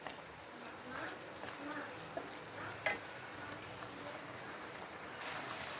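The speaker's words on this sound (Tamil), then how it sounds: "நல்லா வதக்கிக்கலாம் நல்லா வதங்கட்டும்" Greens and other ingredients for a paneer gravy being sautéed in a pan, a steady faint sizzle with occasional stirring scrapes and a few small clinks, fairly quiet throughout.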